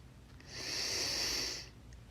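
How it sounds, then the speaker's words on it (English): A single long, hissy exhale close to the microphone, rising and fading over about a second amid faint background noise. "Very heavy breathing."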